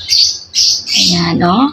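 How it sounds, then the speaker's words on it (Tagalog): A bird squawks loudly nearby, with a few harsh calls in quick succession, and a person speaks briefly at the end. "Naririnig nyo ba yung huni ng ibon?"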